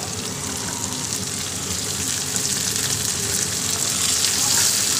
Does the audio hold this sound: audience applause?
no